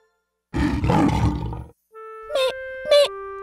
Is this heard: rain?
no